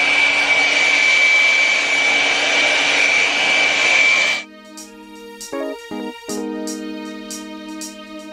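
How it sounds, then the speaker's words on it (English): Hair dryer blowing on locs with a loud, steady, close rush of air for about four seconds before it cuts off, leaving quieter tonal sounds behind. "I'm gonna blow dry it."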